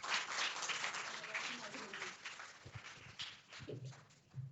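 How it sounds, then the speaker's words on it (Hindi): Students in a classroom clap together for a classmate, a dense patter of applause that thins out, with a teacher's voice speaking over it. "सब तालियां बजाएंगे, वेरी गुड बेटा।"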